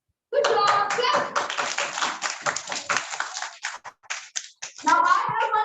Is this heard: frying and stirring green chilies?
no